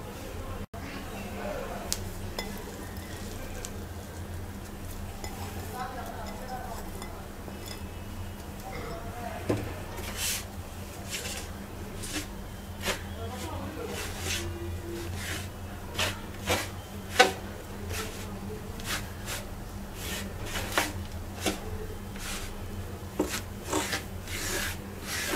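Mint mixture is worked into rice flour by hand for mint steamed rice cakes, making repeated soft rasping and rubbing strokes in an uneven rhythm against faint background hum.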